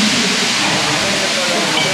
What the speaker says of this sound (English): I can hear the sizzle of dosa in the background.